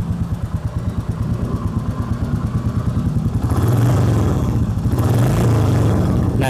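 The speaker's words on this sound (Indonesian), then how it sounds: "ketika digas terus dilepas itu ada kayak suara tembak-tembaknya" A Royal Enfield Classic 350 motorcycle engine thumps at idle with a loud, rapid pulse, then revs up and drops back, its exhaust popping and crackling as the throttle is released, heard close and alone.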